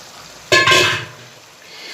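Soaked lentils pour into a cooking pot with a little water, making a close, loud wet rush and clatter that lasts about half a second and then fades.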